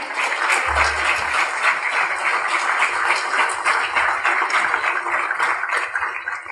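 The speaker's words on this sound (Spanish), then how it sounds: "denle un aplauso al Señor" Sustained applause from a church congregation during a Spanish-language sermon, a dense, steady wash of many hands clapping close and loud for several seconds, with no clear voices over it.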